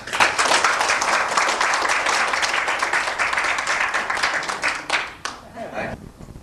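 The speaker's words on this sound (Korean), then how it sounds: "여러분들 우리 박수 쳐서 선생님께" Alumni at a 30th-anniversary reunion of a Seoul elementary school's graduating class give their former teacher dense, sustained applause for about five seconds, which then thins out and fades into room noise.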